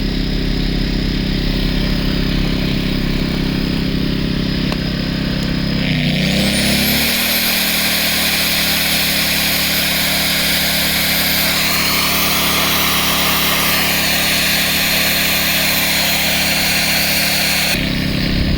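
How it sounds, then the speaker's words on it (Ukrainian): An AYERBE 1200i inverter generator hums steadily, then an angle grinder running on its power spins up partway through and whines at a constant pitch over the engine drone until it stops near the end. "Давай, запускаємо болгарку."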